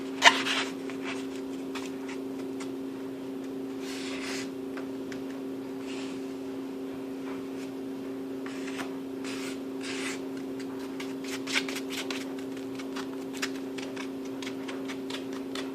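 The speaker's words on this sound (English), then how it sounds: "Just stir it with a fork." Red food coloring being stirred into icing with a fork: light, repeated soft scraping ticks against a bowl, close and quiet over a steady background hum, with no talking.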